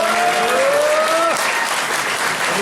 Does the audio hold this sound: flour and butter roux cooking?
no